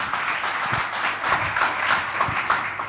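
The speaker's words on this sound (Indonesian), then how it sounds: "berikan tepuk tangan bagi Tuhan Yesus" A church congregation at an Easter worship service claps steadily together, a continuous wash of many hands at moderate distance, with no voices over it.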